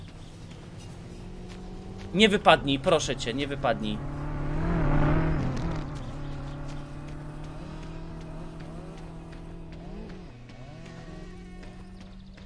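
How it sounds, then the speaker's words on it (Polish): A car in the video game My Summer Car drives past, a rising and falling engine drone that swells near the middle, while someone talks over it. "O kurde, jedzie samochód."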